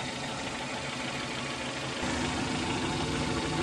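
A car engine idles steadily with the check engine light on, caused by a faulty camshaft position (CMP) sensor; a continuous low hum that grows slightly louder partway through, with no talk.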